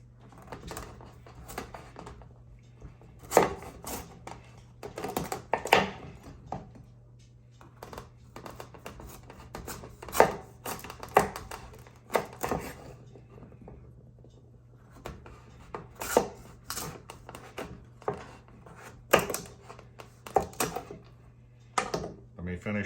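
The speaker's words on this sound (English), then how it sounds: "just cut it into wedges." A knife slices a kabocha squash into wedges, giving a series of irregular sharp cuts and knocks on a board, some clustered and some isolated, moderately close over a faint steady hum.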